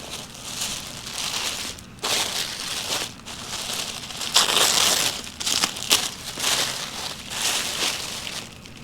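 Loud crinkly plastic packaging from a clothing order being unwrapped and crushed by hand, bursts of crackling rustle separated by brief pauses, close up with no speech.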